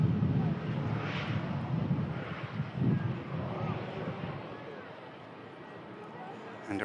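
A Pilatus PC-12 turboprop rumbles at an airport, a broad low drone swelling and easing, with wind buffeting the microphone and what may be faint voices.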